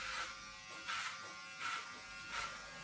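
An electric hair clipper buzzes steadily while cutting a boy's hair, its hum swelling in four regular passes as it is drawn through the hair, close and fairly quiet.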